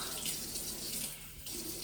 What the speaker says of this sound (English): I'm running the tap if you're wondering